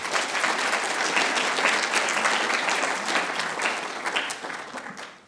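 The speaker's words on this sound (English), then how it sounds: "Can we give a round of applause to the students and faculty" Audience applause follows a university talk, a dense, sustained clatter of many hands clapping that fades out toward the end.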